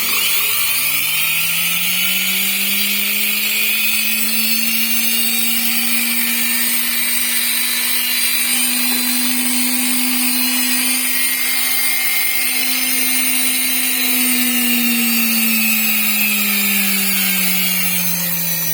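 A motor-driven shaft for a firewood log splitter spins up and runs at steady speed, a continuous loud mechanical whine and hum holding one pitch that rises slightly and then eases off near the end, with no voices.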